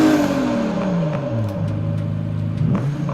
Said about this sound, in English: Let's start up the GTR here and you'll see what I mean